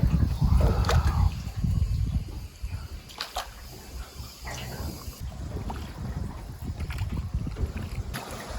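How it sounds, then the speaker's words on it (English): A rowboat glides along the water through the caves of Ninh Binh, Vietnam, with steady sloshing and soft paddle splashes close by, plus light wind noise and no talking. "It's like ASMR, just the noise of the boat."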